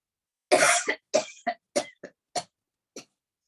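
One forceful deliberate cough after a deep breath during a yoga session, then a run of six shorter coughs that fade in strength, recorded up close without any speech.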